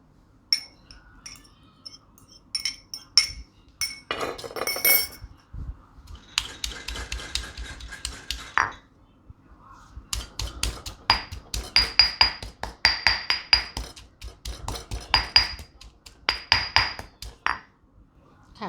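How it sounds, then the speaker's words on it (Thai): Dried shrimp pounded in a mortar for a Thai dried-shrimp chili paste, a run of sharp, irregular pestle thuds and grinding knocks, close and clear, growing faster and denser toward the end with no talking. "เริ่มจากไปล้างกุ้งแห้งนะคะ แล้วมาโขลกให้ละเอียดค่ะ"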